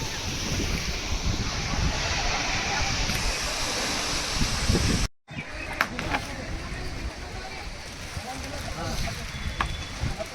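Gokak Falls pours into a broad, continuous roar of rushing water over wind, steady and loud, with a brief dropout midway and faint voices mixed in.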